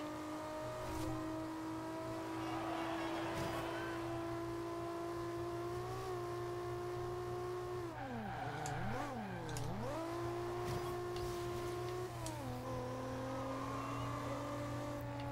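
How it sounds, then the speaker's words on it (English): Car engines in the racing game Forza Horizon 2 hold a steady, revving drone that dips and swoops through gear changes partway through, continuous and fairly quiet, with no talk over it. "I think some people would end up buying this game later just because the car sounds, just because they're very good."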